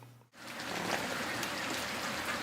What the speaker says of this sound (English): It's been raining here all morning